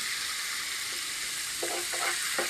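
Meat fries in a pan, producing a constant hissing sizzle broken by several short, clear stirring scrapes toward the end, close and without speech.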